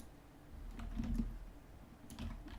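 Quiet computer keyboard typing with a few soft key clicks in two short bursts, faint and close, no voices.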